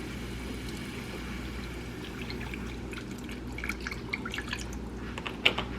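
Coffee pours into a mug, a soft trickling and dripping that grows more distinct toward the end, with a bright clink near the finish over a quiet room background.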